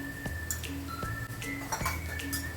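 A spoon stirs apricot sheera in a pan, giving light scraping clinks and taps of metal against the pan at an irregular pace. The sounds are close but soft, and no one speaks.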